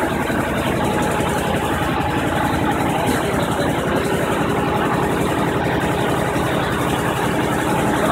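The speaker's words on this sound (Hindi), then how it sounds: "50 HP का इंजन है इसका, बहुत शानदार ट्रैक्टर है।" A 2017 Massey Ferguson 7250 DI tractor with a 50 HP diesel engine idles steadily and loudly at close range, a continuous low rumble with no talk over it.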